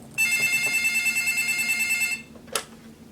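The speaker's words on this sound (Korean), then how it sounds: "2020년 11월 26일 평화롭던 무역이외네 전화 한 통이 울렸다" An office telephone rings out loud and near in a steady trilling burst for about two seconds, stops, then gives one short sharp click as the call is picked up.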